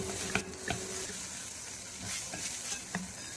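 Soaked poha flakes being mixed in a pan with a spoon make faint, soft scraping and tapping sounds at irregular intervals over a low steady hiss.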